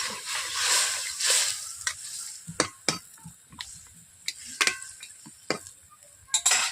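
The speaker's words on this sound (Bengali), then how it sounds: "সয়াবিনগুলোকে জলের মধ্যে দিয়ে দিচ্ছি একসঙ্গে আমি নেড়ে নিচ্ছি এইভাবে" Soybeans are stirred in water in a cooking pan, making soft sloshing and a run of sharp, irregular scraping clinks of a utensil against the pan, close and alone.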